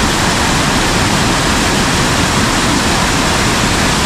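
Rushing water from a forest waterfall and stream in monsoon rain, a steady dense roar filling the whole clip without pause, loud and close, with no voices.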